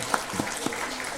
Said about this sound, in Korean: 자, 박수 한번 칩시다.